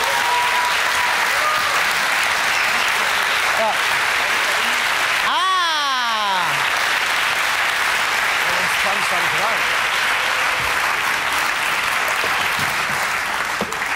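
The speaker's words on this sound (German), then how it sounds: "Kleiner Applaus für Sandra, meine Damen und Herren." Studio audience applause rings out steadily through a German TV comedy show's hair-washing stunt, loud and dense for the whole stretch, with a sliding whistle-like effect cutting in briefly near the middle.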